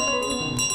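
A gold bell rings in Untitled Goose Game's model village, a steady bright metallic tone sustained with shimmering overtones across the whole moment, loud and close with no talk.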